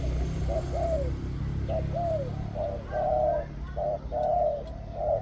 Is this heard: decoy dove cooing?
yes